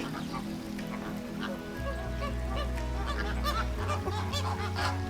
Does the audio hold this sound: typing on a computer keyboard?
no